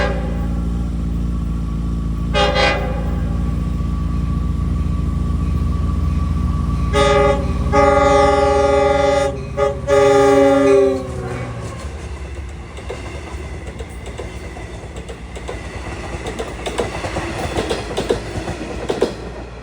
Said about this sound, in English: approaching down the chute is train 656 en route from Long Island City to Port Jefferson, the leader of the rush hour fleet to Port Jefferson